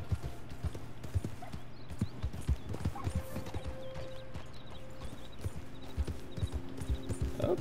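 Horse hooves clip-clopping at a steady rhythm in the Red Dead Redemption 2 video game, close and continuous, with occasional faint game sounds and little talk.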